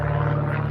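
A propeller airplane drones overhead near an airport on a farm, a steady loud engine hum with a low pulsing beat holding constant throughout, no voices.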